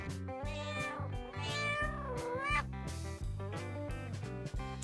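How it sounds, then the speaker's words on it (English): A cat meows in drawn-out, wavering cries over continuous background music, its voice rising and bending in pitch. "Cat."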